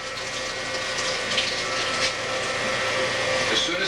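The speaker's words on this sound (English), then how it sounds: "I'll put the pump on here. This would be a load that is now exiting." A pump moves drained washing machine water through a line into a holding tank, a steady continuous whooshing flow with a constant motor hum, fairly close and uninterrupted for the whole stretch.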